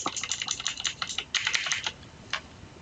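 Keys pressed on a computer keyboard during 3D clay modelling work, a rapid run of crisp, close plastic clicks and then a few spaced taps, with no talking.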